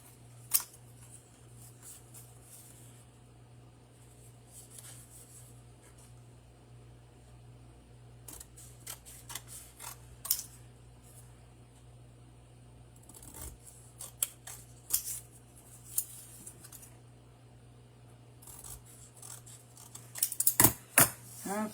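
Scissors snip through card in a quiet room over a steady low hum: sparse, sharp little clicks that come irregularly, then bunch into a quick run of cuts near the end.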